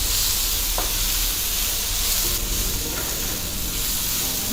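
Chopped tomato and masala roasting in a pan for Kolhapuri mutton rassa, a steady close sizzle with light stirring scrapes throughout, no voices.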